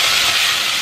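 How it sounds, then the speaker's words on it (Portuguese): Onion and garlic frying in olive oil for chicken give off a steady, close, loud sizzling hiss with no break, alone and with no voices. "já tô fritando aqui a cebola e o alho do frango"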